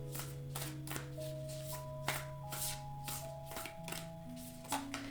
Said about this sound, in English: whenever I start shuffling